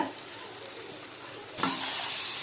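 A kilo of chicken fries in Chettinad curry masala with curry leaves and turmeric, a faint pan hiss that suddenly swells into a louder, steady sizzle as the meat goes in.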